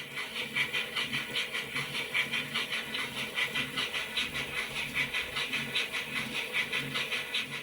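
Hornby Locomotion No.1 model steam locomotive fitted with an HM7000 sound decoder gives a steady rhythmic chuffing with hissing steam, evenly pulsing and fairly quiet throughout, with no talk.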